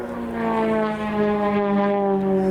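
An Extra 330 aerobatic propeller plane flies a solo display at the Royal International Air Tattoo. Its engine holds a loud, steady, strongly harmonic drone close by, with the pitch shifting slightly as it passes.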